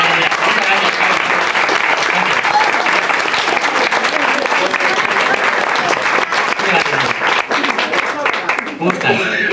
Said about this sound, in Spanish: Un fuerte aplauso, María.